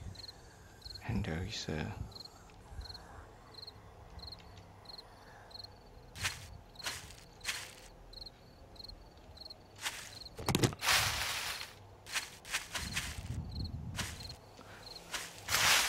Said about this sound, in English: Hear the evening crickets, hear the sound,